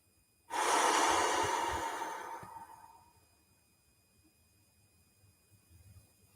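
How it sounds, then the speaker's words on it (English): A single long, slow exhale of breath during a guided relaxation, close and airy, starting abruptly then fading gradually over about two and a half seconds into near silence. "And we're breathing out"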